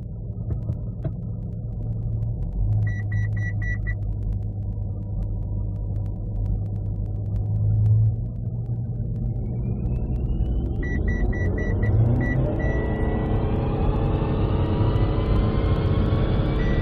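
A Mitsubishi Outlander PHEV (2012-2016) runs at full power on a dyno: a steady, loud drone with a deep throbbing hum, rising in pitch toward the end under sustained load.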